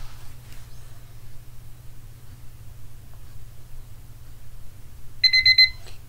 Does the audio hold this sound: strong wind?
no